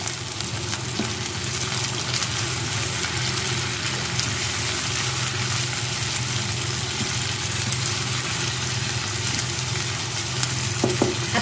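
Chopped onions and tomatoes sizzle steadily in a hot pan for the whole stretch, a close, continuous frying hiss with faint scrapes of stirring and no talking.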